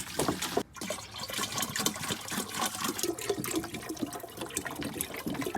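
Water pouring and splashing onto tomato plants in a greenhouse, a continuous close, noisy gush with fluctuating trickles and splatters throughout.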